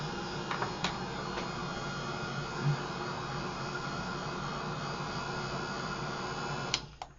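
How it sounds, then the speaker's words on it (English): A continuous airy whir with a low hum from a Ranger heat tool blowing steadily, with faint clicks near the start and a bump at the end. "you can use a hairdryer, this is just a Ranger heat tool"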